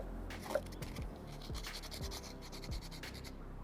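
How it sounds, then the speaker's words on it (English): A DIY wooden puzzle cube is sanded by hand outdoors, giving quiet, rhythmic scratchy rubbing strokes roughly every half second, soft and close with no talk. "So the next step is just to get this sanded and then paint it up."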